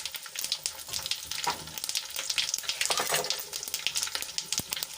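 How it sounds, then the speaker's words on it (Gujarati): Chopped chillies and sesame seeds crackle and sizzle in hot oil, with dense spitting pops and occasional stirring scrapes, close and fairly loud, no voices. "આપણા મરચા થોડાક સંકળાઈ જવા દઈશું"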